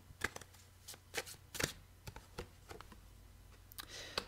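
A deck of oracle cards is shuffled and handled up close, with quiet, irregular riffling flutters, soft slaps and light clicks, all faint and without speech.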